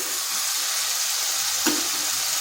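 Fried potatoes stir-fried into a cooked spice paste in a pan for a vegetarian lentil-fritter curry give a steady, close sizzle that runs throughout, with a brief louder scrape of stirring near the end.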